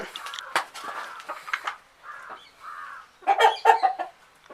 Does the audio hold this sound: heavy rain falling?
no